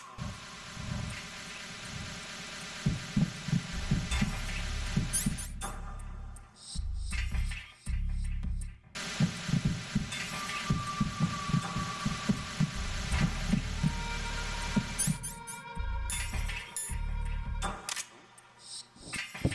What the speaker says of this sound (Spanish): Estaban bien sus latidos, no escuchaban tan bien.